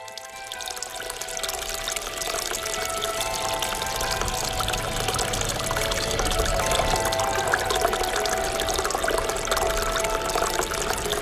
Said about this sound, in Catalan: L'aigua brolla fresca de la font de la Salvasòria